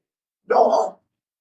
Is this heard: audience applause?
no